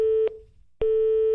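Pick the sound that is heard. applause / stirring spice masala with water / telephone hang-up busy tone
telephone hang-up busy tone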